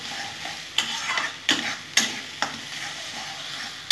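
Shola kochu (taro) paste sizzling in a pan while a spoon scrapes and stirs it, with sharp clacks roughly every half second over a steady close frying hiss.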